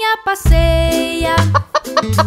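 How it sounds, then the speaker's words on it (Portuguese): Animated cartoon hen clucking as she lays eggs, a run of short, bright, repeated clucks with musical accompaniment underneath. "Bota ovos cacarejando."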